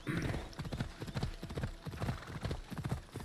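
Horse hooves pound in a steady galloping rhythm on flat ground in the video game Assassin's Creed Odyssey, close and fairly loud, continuing throughout.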